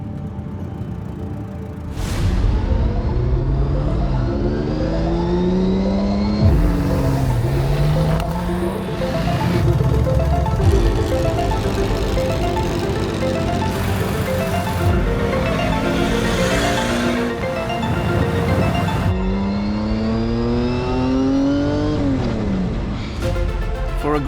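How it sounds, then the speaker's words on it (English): Vintage cars roll out one after another along the Seine in Paris, bound for the 2025 Tour Auto start, engines revving and passing close by in overlapping waves of rising and falling pitch, loud and continuous throughout. "the banks of the Seine vibrate to the sound of engines heading towards Vaux-le-Vicomte"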